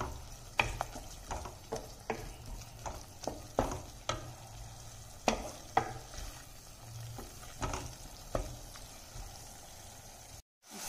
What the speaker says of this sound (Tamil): ஆட் பண்ணிட்டு நல்லா வதக்கி விட்டுடலாம்.